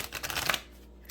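Tarot cards are shuffled by hand in a quick, crisp riffle of rapid papery flicks lasting about half a second, close up, before it goes quiet.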